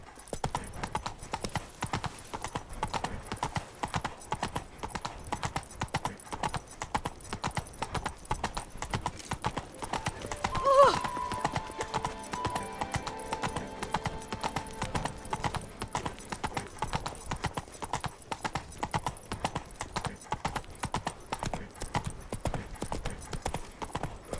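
Roach, the horse in the video game The Witcher 3: Wild Hunt – Blood and Wine, gallops with a steady, rapid clip-clop of hooves running continuously and fairly close, with a brief louder accent midway and no talk.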